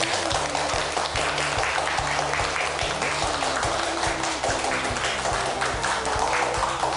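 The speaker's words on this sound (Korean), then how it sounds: "여러분 박수 부탁드립니다." An audience claps steadily to welcome a Yonsei University public administration professor at a televised lecture, dense applause continuing throughout over a low hum, with faint rhythmic tapping underneath.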